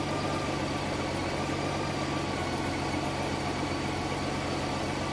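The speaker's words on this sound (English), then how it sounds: "So it's come down to almost a normal idle. It's still a little high right now." A Honda Goldwing motorcycle engine idles during warmup with a steady, continuous hum and slight vibration, holding an even, slightly high idle throughout with no talk.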